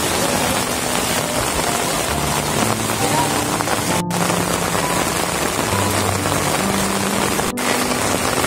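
Steady rain pours outdoors at a family tent setup near waterlogged former rice fields in Cugenang, a dense continuous hiss with faint low hum beneath.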